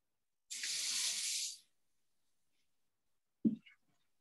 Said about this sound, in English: pour it right along the edge so it doesn't separate stuff